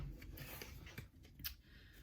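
New circular tarot cards being shuffled, a soft, close papery scraping and riffling in brief uneven bursts with a few sharper flicks, quiet and with no voices.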